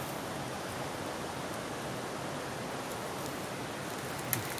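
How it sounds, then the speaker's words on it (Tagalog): A river flows steadily nearby, a dense, even wash of rushing water with no breaks, holding at a moderate level throughout apart from a single small click near the end. "Yan po yung ilog oh."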